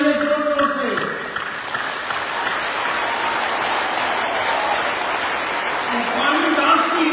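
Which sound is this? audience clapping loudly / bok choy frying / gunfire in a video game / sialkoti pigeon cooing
audience clapping loudly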